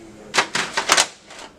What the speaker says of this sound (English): you can shut the side door